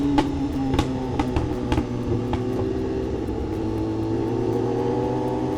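A BMW S1000RR motorcycle fitted with a loud unbaffled exhaust idles close by, a steady throaty drone with a few sharp blips of the throttle early on.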